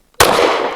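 A single sharp gunshot from a BUL Armory Ultralight PRO pistol, loud and close, with a fast crack and a short decaying tail.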